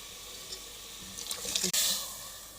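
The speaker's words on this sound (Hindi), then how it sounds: "अब हम इसमें चने ऐड करेंगे।" Chickpeas with their cooking liquid poured into a pot for Lahori cholay, a wet splashing pour that swells into a brief gush, then settles into a trailing trickle, nearby and fairly soft.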